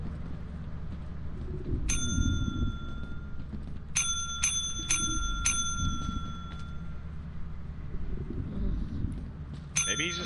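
Repeated bright bell dings from a doorbell in a video game ring out in several quick bursts over low background rumble, with a final ring near the end.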